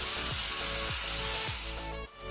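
Onion and tomato fry in a pan for a mixed vegetable dish, giving a steady close sizzle broken by three rhythmic scraping stirs.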